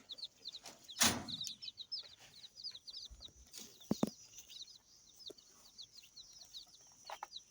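About ten-day-old chicks peep in quick, high repeated chirps while being fed, heard close by alongside a few sharp knocks and thumps, with no talking.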